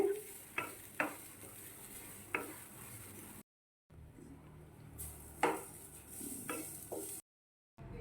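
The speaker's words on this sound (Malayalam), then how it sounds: "ചെറു തീയിൽ വെച്ച് വേണം ഈ തേങ്ങ വറുത്തെടുക്കേണ്ടത്." Grated coconut roasting in a kadai over a low flame, a soft steady sizzle with intermittent spatula scrapes against the pan, quiet and close, broken by two brief silences, no talk.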